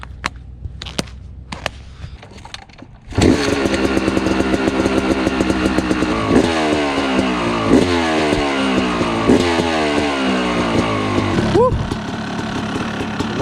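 A dirt bike engine starts and runs loudly nearby, revving up and down several times in rough, buzzing bursts after a brief shout.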